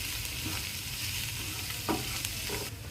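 Soaked poha (flattened rice) goes into a hot pan and is stirred, with a steady close sizzle, light scraping and a few soft clicks.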